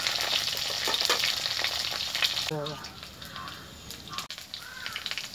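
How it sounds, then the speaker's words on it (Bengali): Potato and pumpkin pieces frying in a pan for pui shak chorchori, a loud close sizzle with stirring that fades partway, followed by faint clatter and a bird calling in the background. "আলু কুমড়োটা ভালো করে ভেজে নিচ্ছি।"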